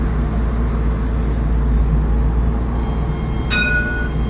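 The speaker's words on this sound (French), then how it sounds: "Les deux tramways du Saint-Wagon qui vont se croiser" Two Alstom trams pass each other at Hauts du Chazal, giving a steady loud rolling rumble and hum of rail traffic close by, with a brief high squeal near the end.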